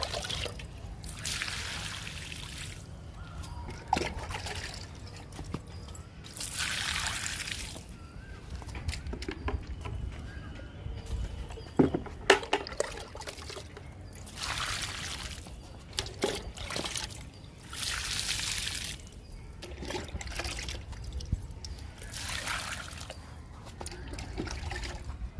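Spider lily plants in a garden being watered, repeated bursts of trickling and splashing water, close and soft, with brief clicks and knocks between pours over a faint background hum.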